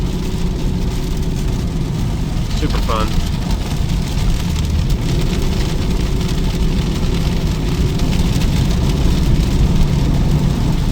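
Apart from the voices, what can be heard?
Ford F350 460 big block engine running while driving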